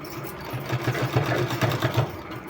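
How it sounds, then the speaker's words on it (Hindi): A sewing machine stitches a neckline on a garment, its needle chattering in a quick, even rhythm that holds steady throughout at close range. "इसमें हमको सिलाई लगा देना है पूरे में"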